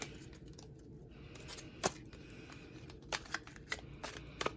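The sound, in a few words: shuffling tarot cards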